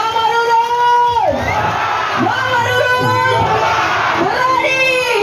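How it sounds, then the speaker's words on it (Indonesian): A large crowd at a 2024 political rally for Anwar Hafid in Central Sulawesi, loud and continuous: rising and falling shouts, whoops and cheers overlapping throughout, with voices mixed into the roar. "Kita berikan tepuk tangan yang meriah Bapak Ibu."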